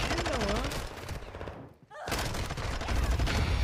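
Rapid bursts of gunfire from a video game shooter, loud and dense at the start and end, with a brief dip in the middle, mixed with game sound effects.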